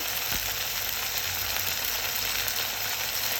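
Garlic paste hits a pan of frying onions and green chilies, producing a dense, continuous close-up sizzle without talking.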